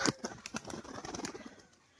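Pigeons including a white-green female, with soft cooing and a burst of wing flapping at the start, then a run of rapid fluttering wingbeats that fade gradually, fairly close and moderately quiet.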